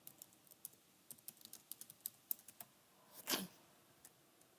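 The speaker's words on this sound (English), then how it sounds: "Man, I'm not typing good today." Fingers type on a computer keyboard, a quick irregular run of light key clicks, close and quiet, ending in one heavier clack after a short pause.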